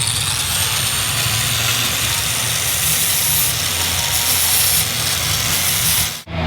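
A 2-inch right angle air grinder working a weld on chopper exhaust pipes, a loud, continuous high whine with a steady hiss that cuts off abruptly at the end.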